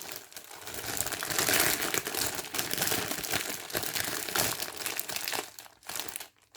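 Crinkly plastic packaging on a Tiniloo subscription box crackles and rustles in bursts of crumpling as it is opened, fairly close but not loud, with no talking.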